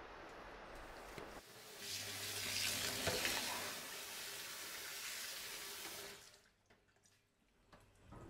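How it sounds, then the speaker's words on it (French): Cold tap water runs steadily over freshly cooked rice noodles for spring rolls draining in a sink, a loud broad hiss that holds for several seconds and then tapers off, with no talking. "Lorsque les nouilles sont cuites, égouttons-les et rinçons-les à l'eau froide."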